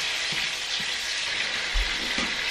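Sliced tomatoes fry in hot oil for Indonesian fish balado with pak choi, a continuous bright sizzle punctuated by a few soft stirring knocks from the pan, close and alone.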